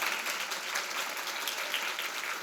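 Breakfast guests at a Sault Ste. Marie Women in Business event keep clapping for an honoree, a short stretch of steady, moderately loud applause from a room-sized crowd, with no speech over it.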